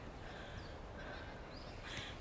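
Ducks call faintly in a few scattered honking bursts over a constant outdoor background hiss.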